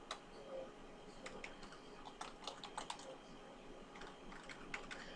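Rapid clicking keystrokes on a computer keyboard, uneven bursts of close, light taps with short pauses between runs, over a quiet room hiss.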